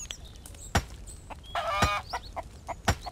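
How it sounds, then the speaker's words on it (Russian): A chicken clucks in the survival game Mist Survival, with a short burst of clucking and a few sharp separate calls, fairly clear against quiet ambient noise. "Курица где-то рядом."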